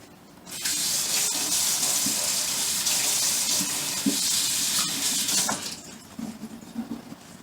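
Tap water runs steadily over a metal ladle in a kitchen sink, a close, continuous rushing splash that cuts off near the end, leaving a few faint clinks.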